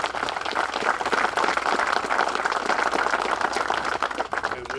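At a monument dedication, a crowd gives sustained applause in honor of the Deshon family, a thick, even wash of many hands clapping at steady volume without speech.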